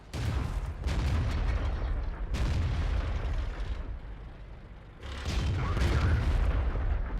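Tank cannon fire in World of Tanks, with a few heavy booming blasts, each swelling into a long, loud rumble that fills the clip.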